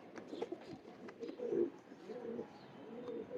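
Champion pigeons of Ferozpuri, Rampuri and Teddy breeds cooing softly and continuously at close range, with low rolling coos rising to a fuller burst midway.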